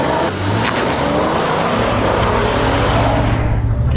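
An Acura and a Honda Pilot launch in a drag race from a brake-torqued start, engines roaring loud and steady as they accelerate with continuous road and wind noise, no talking.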